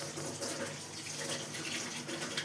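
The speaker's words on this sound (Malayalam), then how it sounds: "ഇതിപ്പോൾ രണ്ടാമത്തെ മൂടിയാണ് ഒഴിക്കുന്നത്" Vinegar pours from a bottle cap into a marinade for home-made KFC-style chicken, a continuous soft liquid trickle and splash that runs steadily at moderate volume throughout.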